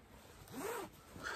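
A clothing zipper is zipped up quickly at close range, a quiet rising rasp followed by a second short pull, in a quiet room.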